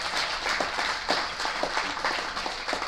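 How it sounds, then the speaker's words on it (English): Applause from a conference audience during a Vue talk, a steady dense patter of clapping held at an even level throughout, with no voices over it. "if you want your applause, go ahead"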